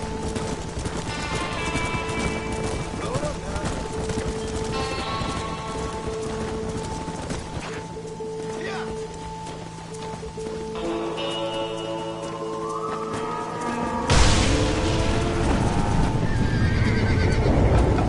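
Horses in the Red Dead Redemption video game neigh and whinny repeatedly over a rushing rain-like wash of galloping hooves, with a louder surge of stampeding near the end.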